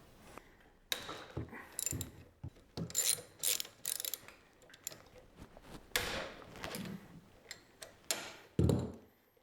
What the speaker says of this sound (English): now we have to pull out these two bolts right here on the front side of the frame